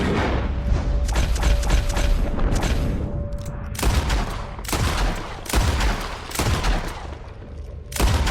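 Loud, close gunfire in Red Dead Redemption 2, with a rapid fusillade at first and then several heavy separate shots with booming tails over a constant background rumble.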